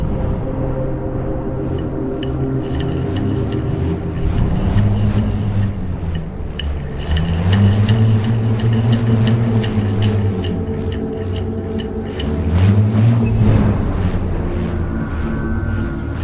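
Bullroarer whirled on a string, a deep pulsing hum that rises and falls in slow swooping waves as it spins, loud and continuous.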